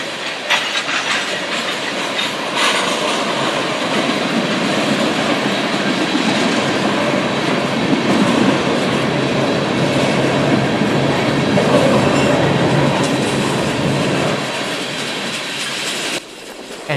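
A train on the New River Line rolls past close by, a loud, continuous rumble with rhythmic clickety-clack of wheels on rail joints. It lasts most of the time before cutting off abruptly near the end.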